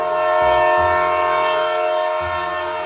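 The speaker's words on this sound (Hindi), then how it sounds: "अरे वहाँ देखो, अंकल ट्रेन लेकर आ गए।" A cartoon train arrives with a loud, steady horn-like whistle that holds throughout, over a low rumbling engine that pulses a few times, in a Hindi children's cartoon about a water park.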